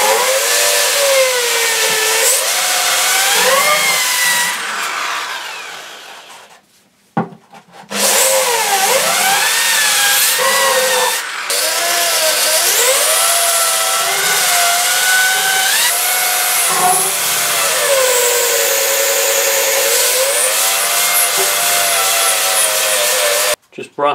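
A handheld power tool sands a 3D-printed BB-8 droid part, giving a continuous high whine whose pitch rises and falls with the load. It drops out briefly around the middle before running on steadily.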